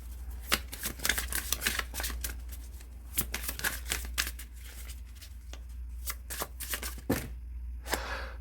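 Tarot cards are shuffled repeatedly in quick, crisp riffles and flutters, close up and otherwise quiet.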